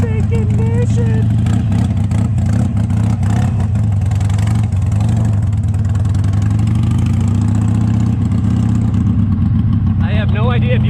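Harley-Davidson 883 Sportster motorcycle engine idling low in first gear around 1300 RPM, a steady deep rumbling drone held loud and close throughout with no break.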